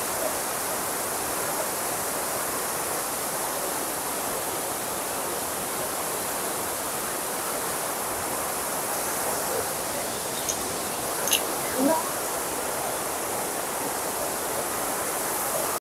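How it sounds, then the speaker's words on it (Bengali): Constant hiss of water falling from a height at a waterfall near Pelling, steady and even, with a couple of faint brief sounds near the end. "দেখো কত উপর থেকে ঝর্ণার মতো জল বেরোচ্ছে"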